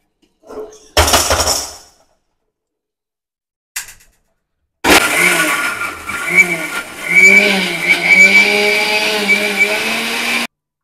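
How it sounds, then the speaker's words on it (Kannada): A mixer grinder grinds chutney for Gadag-style badnekai and mirchi bajji, its loud motor running steadily in the second half after a few brief knocks and clatters, with a voice talking over it. "ಮಿಕ್ಸಿಗೆ ಹಾಕೋಬೇಕಾಗುತ್ತೆ."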